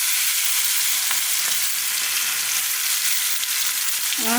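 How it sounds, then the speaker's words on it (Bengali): Rice and five-spice seeds go into hot oil for a Gobindobhog rice khichuri, giving a loud, steady, close sizzle of frying that holds evenly throughout, with a faint stir at the very end. "এবারে আমি 5 ফোড়নটা দিলাম তেলে। এবারে আমি চালটা দিয়ে দিলাম।"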